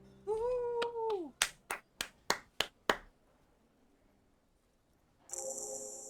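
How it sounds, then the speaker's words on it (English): In the video game Disco Elysium, a short wavering tone, then about six slow, separate claps spaced evenly after karaoke singing, followed by quiet and a buzzy electronic tone at the end. "A lazy applause fills the room."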